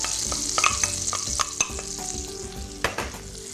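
Onion and celery hitting melted butter in a pan, a close steady sizzle with clicks of a utensil stirring and scraping, no voices.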